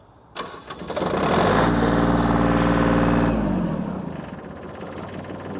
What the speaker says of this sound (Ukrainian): і заводимо трактор